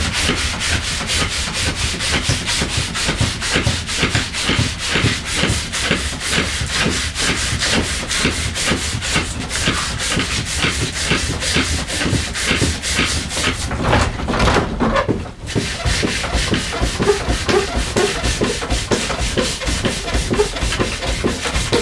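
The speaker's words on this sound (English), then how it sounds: "To polish it, I just take a fistful of shavings from the lathe." A fistful of wood shavings is pressed against a turned stool stile spinning on a lathe, making a steady, close rubbing and rasping with a quick rhythmic flutter and one brief dip near the end, with no talking.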